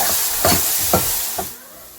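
Onions frying in a pan for Telugu coconut rice give a steady close sizzle and hiss, broken by three soft stirring scrapes at even intervals.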